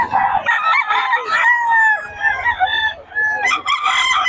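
A young rooster (stag) crows loudly and close by, in drawn-out, wavering calls. Short clucks break in between the calls.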